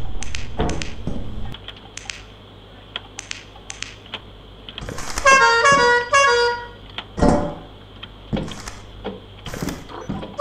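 An air horn blasts in a couple of short, loud bursts midway through, set among scattered tapping and clicking noises with a low steady hum underneath.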